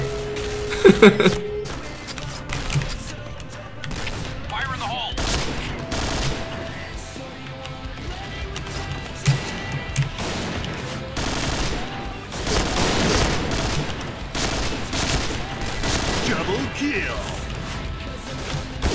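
Rapid bursts of AUG rifle fire from Point Blank gameplay crackle and repeat through the round, mixed with other in-game gunshots, while someone talks over the action.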